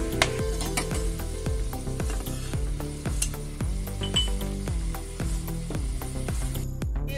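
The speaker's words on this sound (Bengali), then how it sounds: "মিডিয়াম ফ্লেমের মধ্যে কফির ডাটাগুলোকে ফ্রাই করে নেব।" Cauliflower stems fry in a pan over a medium flame for a mixed vegetable dish. A steady close sizzle runs under a regular rhythm of spatula scrapes and stirring clicks.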